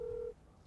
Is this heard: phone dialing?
yes